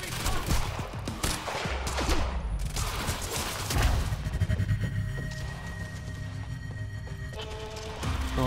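Sniper gunfire in Quantum Break, heard as dense gunshots and rumbling bursts over a steady game soundscape, loud and continuous across the stretch.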